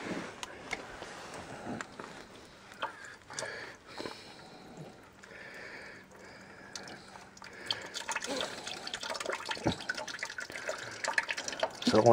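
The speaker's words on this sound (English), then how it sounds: "So let that drain out." Coolant drains from the engine block plug of a Ford Windstar as a faint trickle and drip that grows a little toward the end, with soft sniffs and handling noises.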